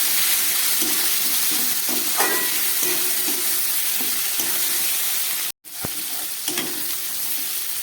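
Ginger paste hits hot oil for a Bengali fish curry and sizzles loudly and steadily, a dense close frying hiss with a brief break near the end before it resumes.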